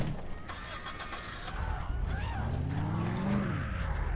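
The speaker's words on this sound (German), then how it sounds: "Ich komme mit dem Auto." A car engine starts and revs up inside the video game Dead Island, with a rising mechanical whine that builds steadily over the clip and sits loud beneath the game's background.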